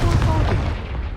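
A Confringo fire spell blast cast in Hogwarts Legacy, a loud, booming burst with a heavy low rumble filling the whole moment, close and forceful.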